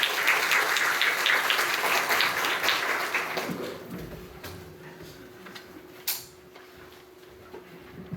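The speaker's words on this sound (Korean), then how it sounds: "큰 박수 부탁드립니다." Audience at a lecture hall event applauding to welcome a speaker, loud dense clapping that tapers off after a few seconds, followed by quiet room noise and a few isolated knocks.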